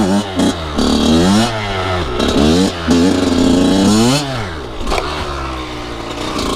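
A Kawasaki KX100 dirt bike engine revs loud and close while riding, its pitch rising and falling in repeated swells with brief throttle dips, running almost continuously.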